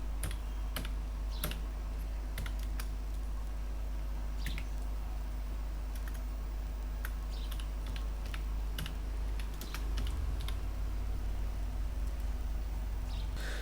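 Rapid typing on a computer keyboard while filling in an online school application form, a steady stream of close, crisp key clicks with occasional louder taps over a low background hum.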